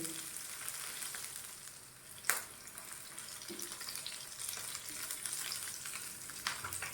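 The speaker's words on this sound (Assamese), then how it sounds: "পিঁয়াজটো ৰঙা নকৰোঁ, অলপমান ভাজি।" Onions fry lightly in a pan over medium heat, making a soft, continuous sizzle with one sharp clink of a utensil and occasional quiet stirring noises.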